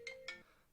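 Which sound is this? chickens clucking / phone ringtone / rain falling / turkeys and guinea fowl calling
phone ringtone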